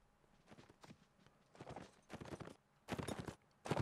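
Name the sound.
horses walking in video game Mount and Blade: Napoleonic Wars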